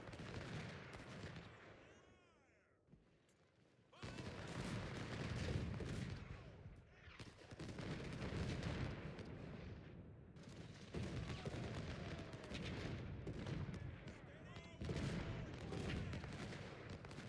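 Cannon artillery fire during a Civil War battle in Ultimate General: Civil War: dense, rolling volleys of booming shots and crackling musketry that pause briefly, then resume as a continuous loud barrage.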